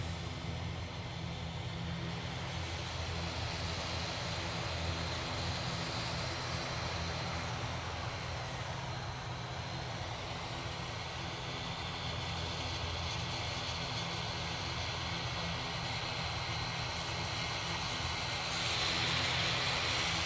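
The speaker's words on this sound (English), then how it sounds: "Ryanair just touched down." Ryanair airliner touching down at Manchester Airport, a steady broad engine roar and rumble heard at a distance, continuous and even, swelling slightly near the end.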